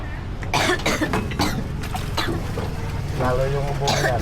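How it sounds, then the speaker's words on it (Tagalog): Someone coughs several times in a noisy, busy outdoor spot in Siquijor, where grilled street food is sold, with chatter and crowd noise around the short rough bursts. "Inuubo na guys."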